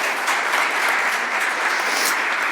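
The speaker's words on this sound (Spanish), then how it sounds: "Un aplauso." Steady applause from an audience at a Digital Meetup on news SEO, dense and even throughout as a speaker is introduced, with no talk over it.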